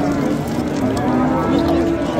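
Cows moo at a busy Friday livestock market in Pastdargom, Samarkand, a loud sustained low bellow over the constant murmur of the crowd.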